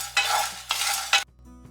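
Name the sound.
dried red chillies and chana dal frying in pan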